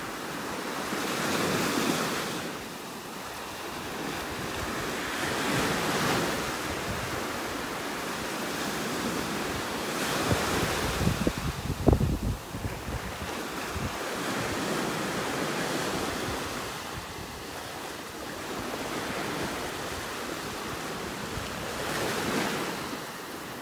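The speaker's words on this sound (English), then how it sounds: "we've had gusts, wind gusts up to about 52 miles an hour" Surf rolling in at a North Naples beach during Tropical Storm Gordon, with strong wind gusts buffeting the microphone; broad continuous roar that swells and eases in long waves, with no one talking.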